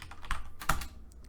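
A few quick, faint keystrokes tap on a computer keyboard, two or three soft clicks spaced apart in a quiet room.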